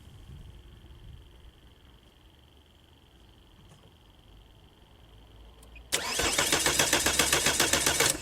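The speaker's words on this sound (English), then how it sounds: "I'll just start the car, or turn the engine over." A car's starter motor kicks in abruptly after a quiet stretch with a faint steady tone, cranking the engine with a loud, rapid rhythmic churn during a starter voltage-drop test.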